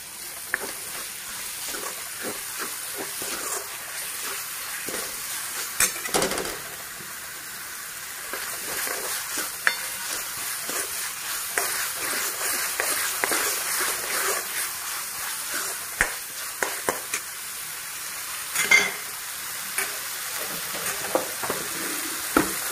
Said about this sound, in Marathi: आता ही टमाट्याची पेस्ट पण टाकून घेते मी ह्याच्यामध्ये, म्हणजे दोन्ही पण छान असं तळल्या जाते।